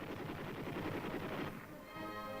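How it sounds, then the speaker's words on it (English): Rapid bursts from a .50 caliber machine gun in military comparison firing, a loud continuous automatic chatter that cuts off midway, leaving a ringing, echoing tail. "Comparison firing, 50 caliber machine gun."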